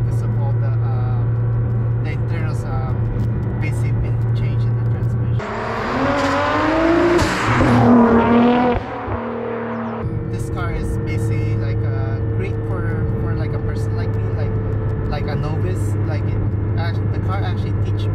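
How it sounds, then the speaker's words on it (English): A car with replaced transmission internals drives along with a steady engine drone and a high transmission whine, rising sharply during a burst of acceleration midway, while a person talks. "this car really whines a lot because of all the internals basically been changed."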